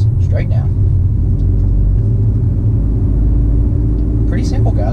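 Low steady rumble of a manual car's engine while shifting into fourth gear, continuous and fairly loud inside the cabin, with someone talking over it briefly at the start and end.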